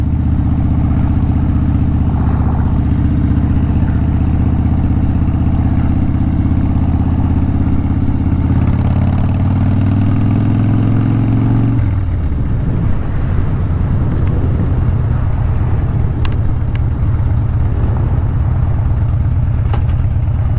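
Two Harley-Davidson motorcycles, a Dyna and a Sportster, ride together, their V-twin engines giving a loud, steady, close rumble that shifts in pitch partway through as the bikes change speed.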